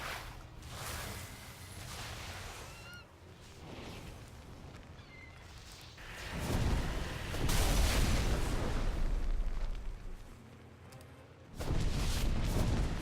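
Cannons firing in World of Warcraft: two heavy booming blasts arrive a few seconds apart, each followed by a rumbling tail, over a lower bed of game ambience and whooshes, with no speech.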